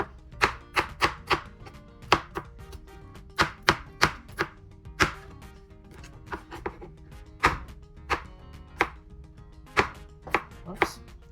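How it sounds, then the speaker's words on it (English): A knife dices food on a cutting board for a breakfast casserole, sharp close chops in quick uneven bursts and runs, each knock crisp and loud against a quiet background. "So I'm somewhat dicing over here."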